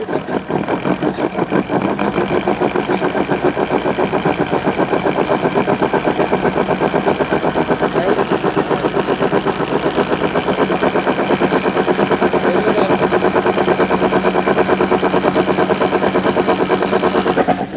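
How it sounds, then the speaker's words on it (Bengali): Bolero BS6 pickup rear wheel spinning in third gear with a faulty rear axle bearing, a steady close mechanical drone with a fine, rapid ticking running throughout, no voices. "এই চাকার মধ্যে যেটা সাউন্ড করতেছে মানে যেরকম কেশারের মধ্যে ক্যাক ক্যাক ক্যাক মানে ঠ্যাট ঠ্যাট করে সাউন্ড করে, ওই সাউন্ডটা করতেছে।"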